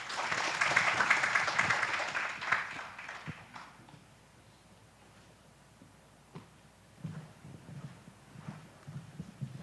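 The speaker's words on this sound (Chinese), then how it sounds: "好，请大家鼓掌。" Audience applause at a spine minimally invasive surgery society conference, a burst of clapping that fades out over a few seconds, followed by quiet room noise and faint thumps.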